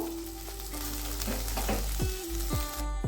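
Potato pieces frying in a pan together with a chicken filling for crispy patties, giving a steady close sizzle with a few stirring scrapes and no talking.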